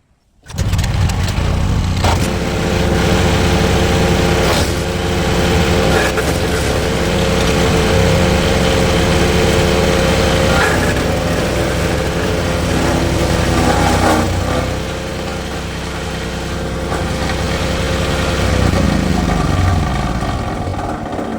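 A petrol garden wood chipper engine runs loud and steady for the whole stretch after starting, with slight changes in load as material feeds in and clogs the machine.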